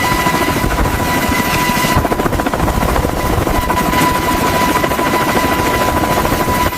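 A loud MH-60R military helicopter roars close by, its rotor thumping in a continuous heavy drone with a whining engine tone, above an aircraft carrier flight deck.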